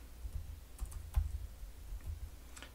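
Computer keyboard keys tapped in irregular bursts while commands are entered in a Linux terminal, soft close clicks with short pauses between groups of keystrokes, alone with no speech.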